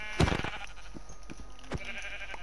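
A single close Minecraft sheep bleat rings out loudly near the start, followed by softer, scattered game sounds over a steady background hum.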